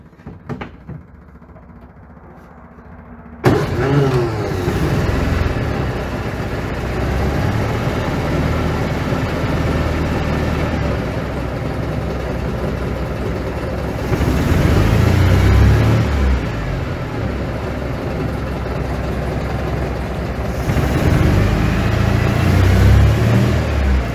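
A prewar Riley Brooklands replica car engine is cranked and fires at about 3.5 seconds, then runs steadily at a loud, close idle with rhythmic low pulsing and a couple of swells in revs.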